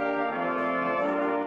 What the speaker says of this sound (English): This is the Granite City High School Band's winning performance.